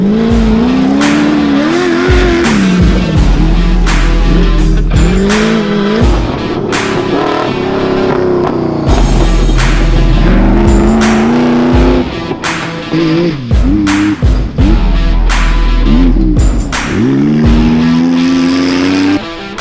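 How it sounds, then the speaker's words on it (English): A Pro Buggy off-road race car tears through a desert rally stage at speed, its engine loud and close, revving hard and dropping through repeated gear changes and surges for the whole stretch. "Mark Kramer in the beautifully presented Make Tracks WA Pro Buggy continued to push the limits in his pursuit of third outright"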